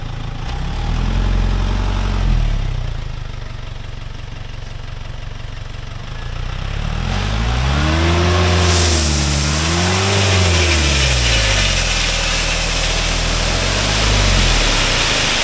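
A loaded truck's diesel engine idles with a steady low rumble, then revs up and down in several rising and falling swells, loud and close, with no voices.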